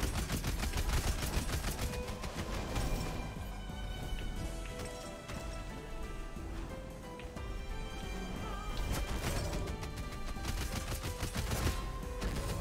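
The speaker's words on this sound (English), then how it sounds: "I think the explosion got me." Explosions and dense combat effects in the action roguelike Rogue Legacy 2, a loud, continuous barrage of bursts and crackling impacts over game music that swells again near the end.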